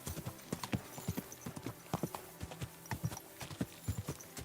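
Horse hooves clip-clopping in a video game set in Kuttenberg, a brisk, even run of hoof strikes on a hard road, close and clear, continuing for several seconds with no talk.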